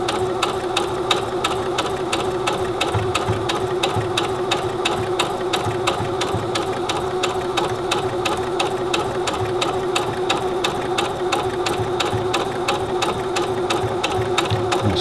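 A Singer Heavy Duty 6800C sewing machine stitches at a 3.5 stitch length, a fast, even mechanical chatter of needle strokes running continuously and close by, with no voices.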